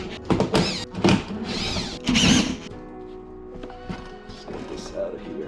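A power tool whirs in short bursts while removing fan bolts on a BMW E46 M3 with an S54 engine, followed by quieter clanks and handling noises in a garage.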